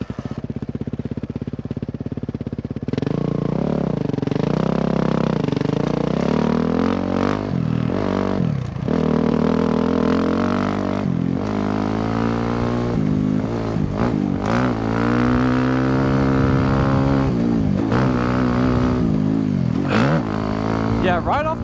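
A motorcycle engine revs hard at race pace in second gear, its pitch climbing and falling through repeated surges over steady wind roar, loud and close throughout.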